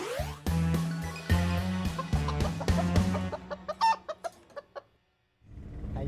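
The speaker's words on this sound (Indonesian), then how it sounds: "Tuh, ayam-ayam di belakang tuh stres dari lo nyanyi." Chickens cluck in a loud run of sharp, uneven calls and squawks, then they trail off into brief quiet before more noise returns.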